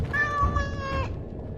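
A cat meows once in a medieval fantasy video game, Dragon Age Origins Awakening: a clear, drawn-out tonal cry lasting about a second over a low background hum.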